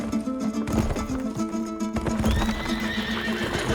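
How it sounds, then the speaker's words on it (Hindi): A runaway horse neighs and whinnies loudly amid a busy clatter of hooves, close and chaotic, with a steady low drone underneath throughout. "घोड़ा बेकाबू हो गया, पकड़ो।"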